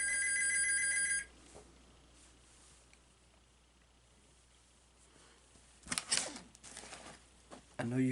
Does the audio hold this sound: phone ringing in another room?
yes